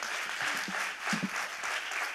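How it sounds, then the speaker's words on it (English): An audience at a women's leadership event gives a round of applause, a continuous patter of many hands at moderate, fairly distant volume. "Can we give a huge round of applause?"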